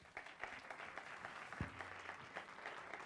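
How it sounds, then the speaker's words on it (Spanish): Audience applause at an audiovisual technical conference, a steady patter of clapping from a moderately distant crowd lasting the whole stretch, with a brief low thump partway through. "Un aplauso, por favor."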